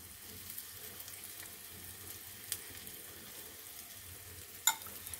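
Besan bread toast topped with onion and tomato batter sizzles softly and steadily in a pan. A few faint clicks sound near the end, with no talking.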